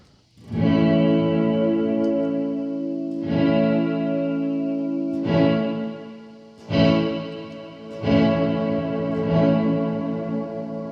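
Electric guitar chords played through a gated reverb pedal, five strums that each swell with washy ambience and then cut off abruptly.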